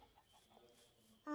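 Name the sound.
chicken clucking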